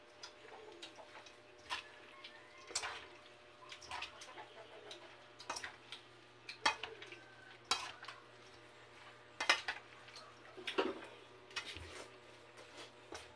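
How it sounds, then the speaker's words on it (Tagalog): A utensil stirs papaya atchara, a pickled papaya relish, in steady rhythmic scrapes and clinks against the container. The sound is close and soft, with faint background noise and no talking. "Haluin natin ang haluin para masarap."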